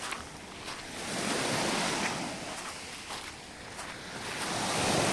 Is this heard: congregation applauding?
no